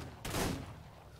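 A single sharp gunshot in the Ark Gunsmoke roleplay game, one loud close crack with a short ringing tail, no talking.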